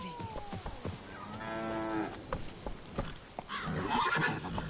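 A horse in Witcher 3 gives a clear, loud whinny with a descending, wavering pitch, surrounded by shorter snorts and faint hoof clatter.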